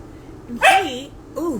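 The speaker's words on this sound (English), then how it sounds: "That is my dog." A dog gives two short barks close by, the first louder and the second a softer yelp, with a person talking over them.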